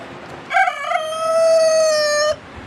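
A rooster crows once outdoors as farm birds are let out in the morning, a loud, close cock-a-doodle-doo of about two seconds with a rising opening and a long held final note.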